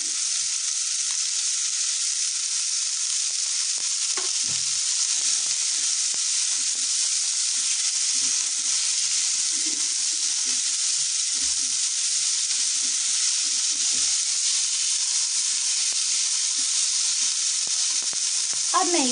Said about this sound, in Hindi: अब मैं प्याज के साथ ये मशरूम, फलियां, गाजर, मटर और ये सारे स्वीट कॉर्न डाल दूंगी